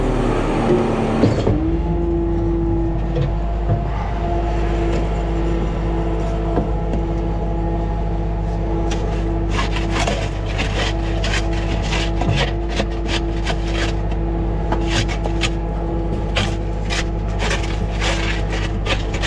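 Concrete being scraped out of a Putzmeister or Schwing concrete pump hopper during washout, with repeated raspy scraping strokes in quick bursts over a steady, loud pump engine drone.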